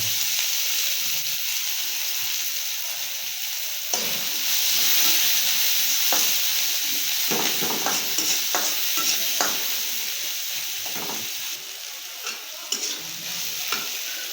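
Onion and chili frying in oil for a village-style prawn and egg dish, a steady close sizzle with recurring scrape-and-stir clicks throughout, no talking.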